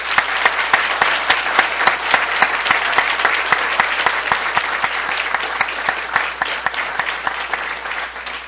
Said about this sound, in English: we first of all want to give all of you a round of applause.